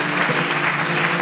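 Sustained clapping and cheering from a worship congregation in church, a brief, even burst of dense applause filling the room without pause.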